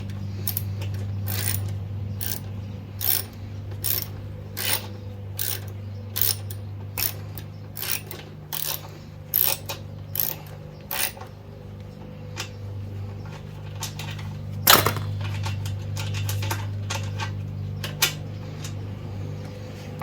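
Repeated sharp metallic ratchet clicks from a socket wrench working a 10 mm bolt loose on a 1972 Yamaha RT1-360 Enduro, arriving in quick irregular bursts over a steady low hum, with one louder clank near the end.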